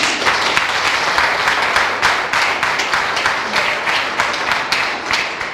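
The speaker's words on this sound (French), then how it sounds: "à Madame Madeleine Diaré Faye, que je vous demande d'applaudir maintenant." An audience at a recognition ceremony at the Dalal Xel hospital in Thiès applauds steadily, a dense, even wash of many hands clapping for several seconds with no talking over it.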